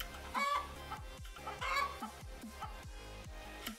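Chicken clucking from a catapult video game, a series of sharp clucks over a rhythmic game soundtrack with pulsing bass beats.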